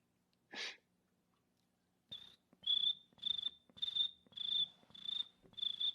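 A person imitates a cricket with their voice, making a quick breathy lead-in and then a steady series of shrill, evenly spaced chirps, close and fairly loud, with no one else talking.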